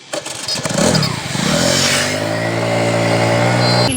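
A motorcycle engine is started with the push button: a short cranking burst catches and settles into a steady, close, rumbling idle. No one speaks.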